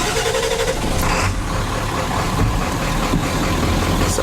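A Ford Power Stroke 7.3 diesel engine idles steadily just after being started, a loud continuous rumble close by with no talk.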